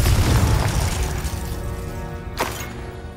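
A Confringo fire spell explodes in the video game Hogwarts Legacy: a loud, close boom that decays over a few seconds, with a brief sharp burst near the end.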